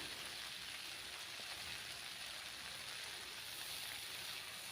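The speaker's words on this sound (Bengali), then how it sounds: "মিটুলিগুলো সুন্দর করে ভেজে নেব।" Malabar spinach seeds (pui mitul) frying in a pan with salt, a steady, even sizzle and hiss like light rain, continuous and moderately quiet throughout.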